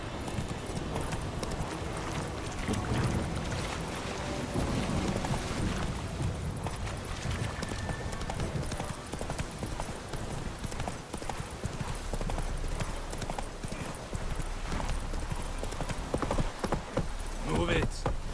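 Hooves of Roach, the horse in the video game The Witcher 3, clip-clop steadily throughout amid a dense, busy in-game soundscape, with some in-game speech mixed in.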